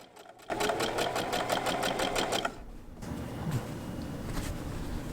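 A sewing machine stitches a fabric face mask in a rapid, steady run of needle strokes for about two seconds, then stops, leaving quieter handling noise.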